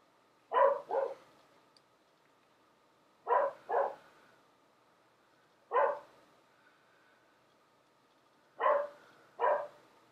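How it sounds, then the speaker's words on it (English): A dog barks in five sharp bursts, mostly in quick pairs, separated by quiet gaps; the barks sound fairly close and clear with no talking over them. "when I do, they decide to bark"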